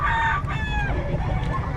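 A rooster crows close by while other chickens cluck in the background, with a steady low rumble underneath.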